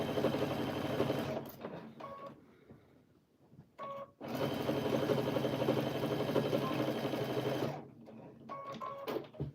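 A sewing machine running slowly quilts scraps of batting and fabric, its steady mechanical whir starting and stopping in short runs and one longer burst, with quiet handling sounds in the gaps.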